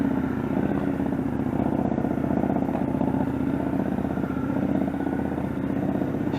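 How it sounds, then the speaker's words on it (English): A motorcycle putters along at low speed while the rider slips the clutch and drags the rear brake, a steady throbbing engine note heard from a moderate distance without talk. "Slipping the clutch, pressure on the rear brake, turning her head and eyes."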